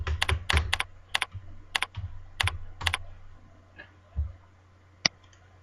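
Close, crisp keystrokes on a computer keyboard as a password is typed for a new Gmail account, about a dozen quick clicks in bursts with a short pause and one final sharp tap, no talk.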